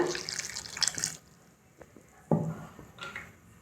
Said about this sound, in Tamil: ஒரு 1/2 கிளாஸ் போல் தண்ணி சேர்த்துக்குங்க.